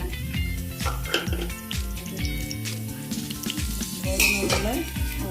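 Sliced onions sizzle steadily in melted ghee with a pinch of salt, cooking for a pressure cooker chicken biryani, while background music plays along with the frying.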